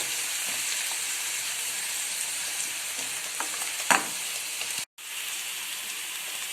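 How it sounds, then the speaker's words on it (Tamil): Onions sauté in a pan for a vegetable poriyal, giving a steady close sizzle with soft stirring scrapes, one sharper clatter partway through and a momentary gap just before the end. "இப்போ வெங்காயம் சேர்த்துக்கலாம். வெங்காயம் நல்லா வதங்கட்டும்."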